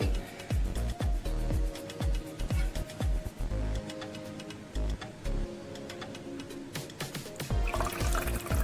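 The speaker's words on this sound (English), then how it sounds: "let me try to pour everything" A thick, porridge-like homemade bioplastic mixture being poured, giving a steady liquid flow with repeated knocks and clatter, close and fairly loud, with no talk.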